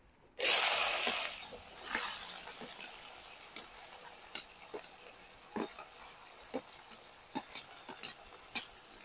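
Chopped onions hit hot oil already seasoned with bay leaf, dried red chillies, whole garam masala and cumin in an outdoor pan. A loud hissing burst at first settles into steady close frying with scattered crackles and stirring scrapes.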